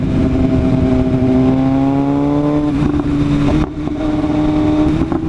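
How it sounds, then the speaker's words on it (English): Loud car engine revving with a rising, harmonic exhaust note that climbs and settles, holding steady and close throughout with a brief dip near the end; distinct exhaust pops are not clearly separable. "This exhaust is just hella loud."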